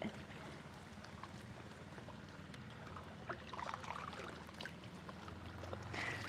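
Faint, steady low rumble of a boat on a freshwater spring with soft lapping and trickling sounds, distant and continuous.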